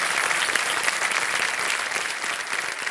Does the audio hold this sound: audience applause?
yes